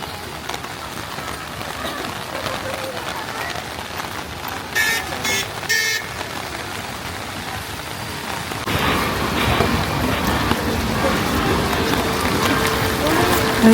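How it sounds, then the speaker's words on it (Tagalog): Steady rain falls outside a Starbucks, a continuous broad hiss that thickens and grows heavier partway through, with brief faint voices and a short bright clatter in the middle. "Sobrang ganda dito, pero maulan siya."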